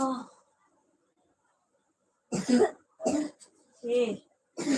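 A short cough at the start, then a pause followed by several harsh, close coughs and throat-clearing bursts in quick succession.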